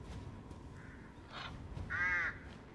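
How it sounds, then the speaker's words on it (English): A crow caws a few times in the Resident Evil Village video game, short rough calls ending in one louder, drawn-out caw, heard over a low rumbling ambient game background. "I thought I heard an enemy, but it was just a crow."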